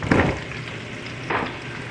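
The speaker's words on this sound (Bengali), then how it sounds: "এটাকেও আরো আমরা 2 থেকে 3 মিনিট মতো প্রথম ভেজে নেব" Vegetables such as sweet potato fry in a pan for Bengali bhoger labra, giving a soft steady sizzle with two brief bursts of stirring, close and fairly quiet.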